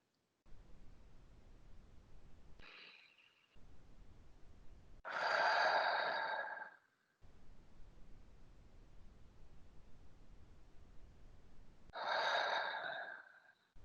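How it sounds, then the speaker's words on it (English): Slow breathing during a mindfulness exercise: two long, deep breaths, a few seconds apart, heard close and soft over a steady background hiss, with quieter breath sounds between them. "So breathing in and out just at your own pace."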